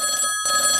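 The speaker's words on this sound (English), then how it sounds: "Now my phone's ringing." A telephone ringing indoors, a steady electronic trill held throughout with a brief break near the middle, fairly loud and alone.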